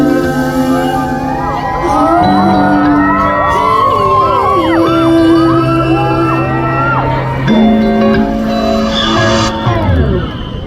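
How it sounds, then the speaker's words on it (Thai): Fans shriek, whoop and cheer loudly and continuously at a LANEIGE 2023 presenter launch event, a dense wall of high crowd voices with occasional shouts rising above it. "ขอเสียงปรบมือ"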